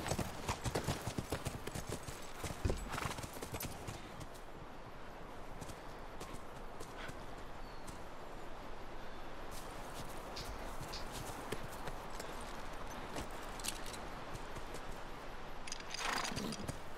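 Steady clip-clop of horse hooves walking in The Last of Us Remastered, a continuous even rhythm close by, with a few sharper knocks and faint voices now and then.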